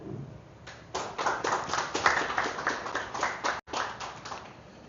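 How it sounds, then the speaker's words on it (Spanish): A small audience at a talk on journalism and truth in the social media era claps for the introduced speaker, distinct close hand claps in a brisk, somewhat uneven rhythm for about four seconds. "Démosle un aplauso, por favor, a David."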